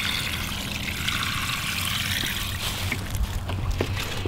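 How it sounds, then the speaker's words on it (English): Water trickles and drains steadily from the bottom of a pot holding a freshly transplanted cacuzza squash plant, a soft close continuous pour that thins into drips near the end. "You can see that water coming out the bottom"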